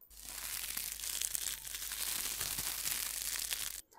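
Continuous close crinkling and crushing of paper, a dense rustling texture that stops abruptly at the end.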